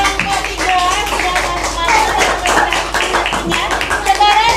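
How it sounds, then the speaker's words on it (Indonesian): Classroom students clapping for a presenting group, a lively patter of many hands at close range with voices chattering and calling out underneath. "tepuk tangan untuk kelompok 3"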